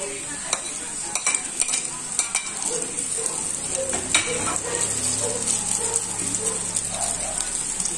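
Flaked smoked fish (tinapa) sautés in a hot pan with a steady, dense sizzle, broken by scattered crackles and pops and a few scraping stirs, loud and close with no talking.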